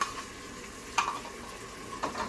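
Coriander and mint sauté in a pan, a soft steady sizzle broken by a couple of sharp stirring scrapes, close and fairly quiet with no talking.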